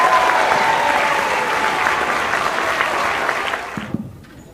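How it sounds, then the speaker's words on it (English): An audience claps loudly for the school orchestra musicians at a 5th and 6th grade chamber holiday concert. The dense applause is sustained, then thins out and dies away near the end, with a few last claps. "One more round of applause for all of our musicians this evening."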